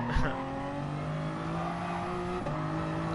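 A race car in the video game GT Sport whines at high revs with a tight engine tone that jumps abruptly as it drops a gear, holding a loud, steady scream between shifts.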